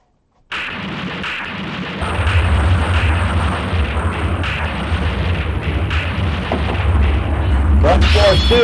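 Gun Force 2 arcade game cabinet blares a loud, nonstop barrage of gunfire and booming explosions that persists throughout and swells slightly near the end.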